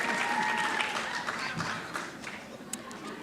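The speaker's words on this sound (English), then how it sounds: "So, round of applause for Emma." Audience applause at an awards ceremony, a steady wash of many hands clapping that starts full and slowly thins out, with a faint voice over it early on.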